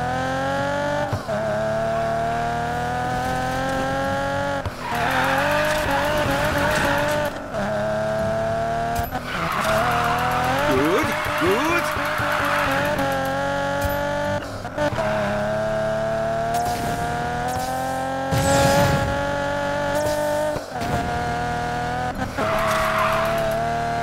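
A race car drifting in Need for Speed Payback, loud sustained engine whine shifting pitch through gear changes with long tire squeals and skids, continuous and close with no voices.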